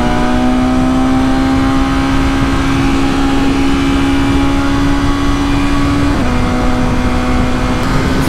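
A BMW S1000RR sport motorcycle ridden on the road: loud, continuous engine drone at steady revs, holding one pitch before a brief shift and dip near the end, with wind roar underneath.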